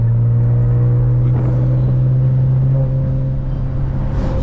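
A BMW 335is with a single-turbo conversion pulls in third gear, its engine a loud, steady low drone heard from inside the cabin that rises slightly in pitch as the car accelerates.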